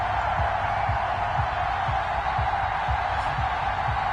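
A large stadium crowd at an NFL football game between the Dallas Cowboys and the Jacksonville Jaguars, a steady roaring wash of noise filling the arena with no single voice standing out.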